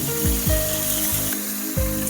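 Taro stolons (kochur loti) go into a pan with fried onions and sizzle quietly and steadily, with a few soft stirring knocks against the pan.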